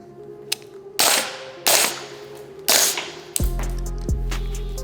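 Gunshots ring out during close-quarters room-clearing training as a shooter engages corner targets on the move: four sharp, loud cracks with echoing tails, spaced under a second apart, followed by a lower mechanical thud and sustained rumble.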